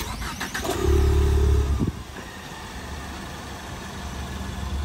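A 4-cylinder Ford Mustang engine starts by remote start: a loud cranking burst for about a second, then it settles into a steady, lower idle hum nearby.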